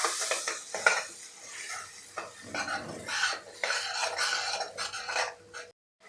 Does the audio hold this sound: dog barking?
no